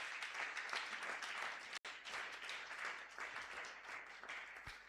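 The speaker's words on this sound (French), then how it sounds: "Acclame très fort pour la gloire de Jésus." A church congregation applauds throughout a Sunday praise and thanksgiving service, the clapping dense and continuous with a brief break partway, heard at a moderate distance in a reverberant hall.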